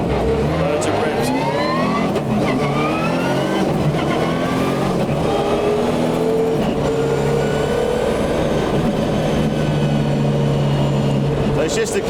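A 1999 Subaru Impreza WRC engine revs hard on the move, its pitch climbing and dropping through repeated gear changes in a loud, continuous roar, with a voice talking over it.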